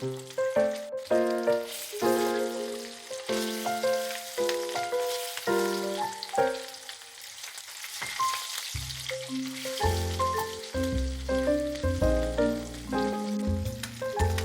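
River fish frying in a pan of hot oil, a steady close sizzle and crackle running throughout with no speech.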